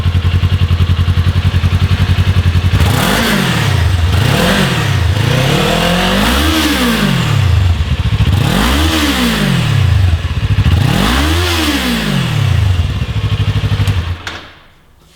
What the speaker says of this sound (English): let's start with our stock exhaust node. The 400's warmed up and ready to go.